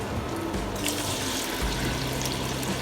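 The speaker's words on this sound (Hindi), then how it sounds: "प्याज डाल के फ्राई करेंगे।" Sliced onions dropped into half a cup of oil for aloo gosht, producing a constant, loud, hissing sizzle with a watery, bubbling texture throughout and no talking.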